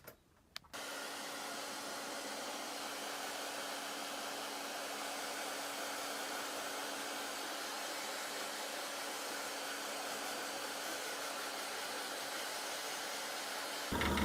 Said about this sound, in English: let's give it a little hair dryer and see some moisture on there